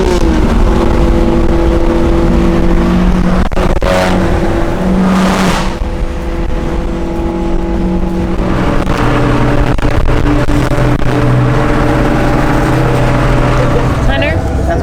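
Several cars, including a Nissan Nismo, a GTR and an S2000, start up and roll out together toward a car show, engines droning and revving loudly and steadily throughout, with people talking over them.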